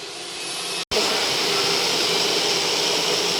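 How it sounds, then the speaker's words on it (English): A vacuum pump on a nesting CNC router for panel work runs in jog mode, a steady loud broadband roar that cuts out for a split second and then resumes at full strength, with no talking. "we just test the rotation direction of the vacuum pump to check if it's correct"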